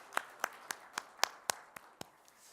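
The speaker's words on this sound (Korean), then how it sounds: "하나님께 영광의 박수 다시 한번 올려드릴까요?" A church congregation at a Friday evening service gives a short round of applause: about nine sparse, separate claps spaced evenly, moderately close, with quiet room tone in between.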